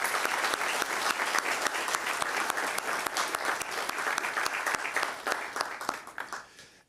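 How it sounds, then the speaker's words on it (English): An audience at a city's state-of-the-city event claps for city staff, a dense, sustained round of applause that fades toward the end. "Can we give our city staff a big round of applause as well"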